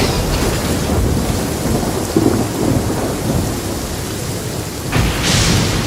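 A thunderstorm with steady rain in the Genshin Impact video game: constant hiss of rainfall with low rolling thunder rumbles, and a sharper crack near the end, fairly loud and without speech.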